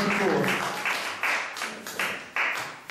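An audience at a televised music show claps in steady, rhythmic unison for the dogs, each beat a crisp burst that fades quickly. The sound is moderately quiet and somewhat distant.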